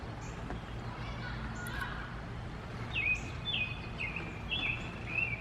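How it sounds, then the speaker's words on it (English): Birds chirp in short repeated calls over a steady low outdoor hum, a few bright twittering phrases in the second half. "Hear the birds chirping?"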